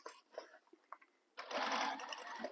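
Sewing machine stitching the seam of a fabric tote bag, a dense steady whirring run that starts after about a second and a half of lighter, intermittent handling noises and short bursts.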